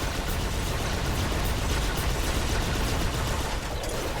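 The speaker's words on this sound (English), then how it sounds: "And when they shoot back with a bit more firepower as well." Dense, continuous gunfire from enemy toy soldiers in the Xbox One game Toy Soldiers: War Chest, a steady loud crackle of rapid shots with no pauses.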